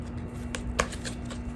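A brief riffle of oracle cards being shuffled, a few soft papery flicks with one sharper snap near the middle, close by and with no talk.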